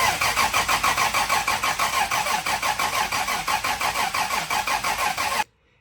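A Toyota 2JZ engine swapped into a car cranks over on the starter in a fast, even chugging rhythm for about five seconds. It is loud and close, then cuts off abruptly to near silence.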